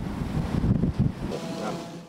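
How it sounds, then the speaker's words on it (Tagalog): Strong wind and heavy rain lash Pasay City during a storm, a steady roaring rush of wind noise with gusty surges, loud and close throughout. "Damarin ang lakas ng ulan at hangin sa Pasay City."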